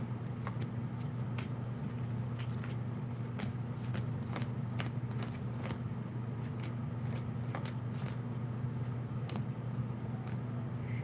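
A deck of cards is shuffled repeatedly, crisp riffling clicks and flutters over a steady low hum in the room.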